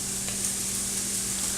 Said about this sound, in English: I'm going to stir my onions.